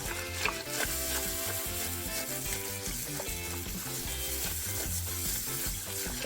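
Grains tumble and stir into hot water inside a mash bag for a home-brewed Punk IPA mash at 66 °C on a kitchen stovetop, making a steady close-up rustling, sloshing churn that runs throughout with no talk.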